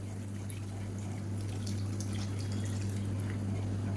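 Ragi mixture pours steadily into a pot of soup, a gentle continuous trickle and splash over a low constant hum, with no talking.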